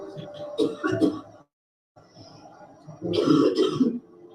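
Two tired travellers cough and clear their throats after time in cold, high-altitude conditions, harsh bursts in two clusters separated by a short pause, fairly close, heard through video playback.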